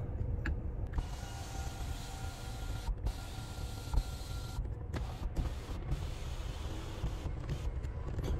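An electric sunroof slides open on a Jeep Compass fitted with a BougeRV crossbar roof rack. A steady motor whir and cabin hum carry on with a few soft clicks and brief dips, heard close inside the car.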